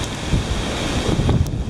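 Hurricane Irma's winds of 10 to 15 miles per hour in South Florida buffet the microphone in a loud, continuous roar with gusty swells, with no voices.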